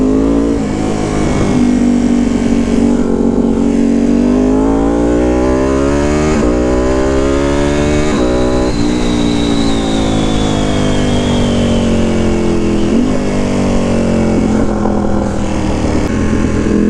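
Ducati Panigale V2 fitted with a Vandemon full exhaust and dB killers, revving loud and close with a rough, rising and falling engine roar that sweeps up and down repeatedly and never drops to idle.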